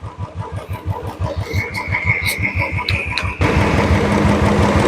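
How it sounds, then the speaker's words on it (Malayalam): Royal Enfield Bullet motorcycle engine running close by with a steady thumping beat, the single-cylinder pulses clear and even; partway through, a louder broadband hiss or rush joins in and continues to the end. "ഇതിപ്പോൾ ഒരു വണ്ടിയുടെ സൗണ്ടാണ്, കേൾക്കുന്നുണ്ടോയെന്ന് അറിയില്ല."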